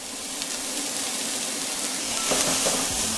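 Onion and garlic fry in a pan over medium-high heat, making a loud, dense, unbroken sizzle with a few faint scrapes late on.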